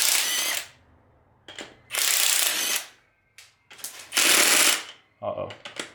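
A ratchet wrench works loose Mazdaspeed turbo manifold bolts in loud, close bursts of rapid clicking, several strokes separated by short pauses, ending with lighter metallic handling.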